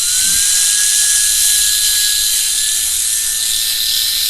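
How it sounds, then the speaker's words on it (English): A power drill boring out a part during restoration work on the Bentley from the Avengers set, a loud continuous high-pitched whine with a steady tone, held close for several seconds without talking. "And get this drilled out."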